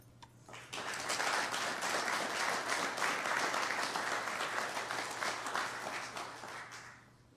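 Sustained audience applause at a business award ceremony, dense clapping from a large crowd swelling in quickly and holding steady for several seconds before tapering off, with no talk over it.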